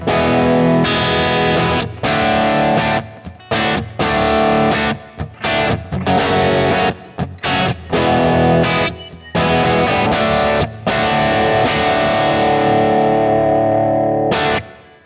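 A Les Paul style electric guitar through a Kemper amp plays a distorted riff of choppy chords and short stabs with brief gaps, loud and close, with no voices.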